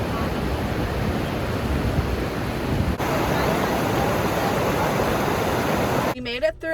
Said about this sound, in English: This is a really pretty waterfall.